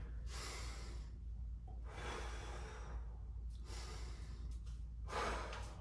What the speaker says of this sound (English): Nice deep breaths, controlled breathing here.